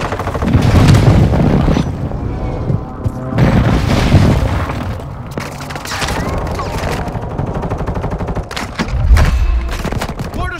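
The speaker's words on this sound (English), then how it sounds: "Friendly precision airstrike inbound." Booming airstrike explosions in the Call of Duty video game, heavy low rumbling blasts recurring at intervals alongside rattling gunfire, loud and continuous, with faint radio-style voices in the mix.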